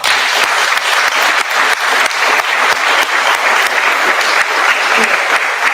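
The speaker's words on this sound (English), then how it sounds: "another round of applause" Sustained applause from a large crowd, steady dense clapping throughout without a break.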